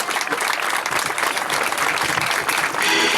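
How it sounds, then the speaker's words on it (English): Dense, steady applause from a large crowd at a high school stadium rally, welcoming a speaker to the podium, sustained and fairly loud throughout with no pause. "let's give him a round of applause"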